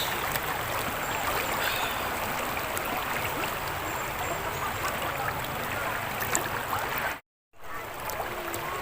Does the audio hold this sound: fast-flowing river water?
yes